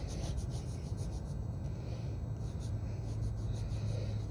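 A dug-up penny coin is rubbed clean by hand outdoors at night, producing a close, steady scratchy rubbing and scraping that continues throughout without a break, and no one speaks.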